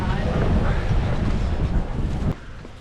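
Strong wind buffets the microphone on a hilly street in Lisbon, a loud continuous low rumble with gusty surges that drops off abruptly near the end.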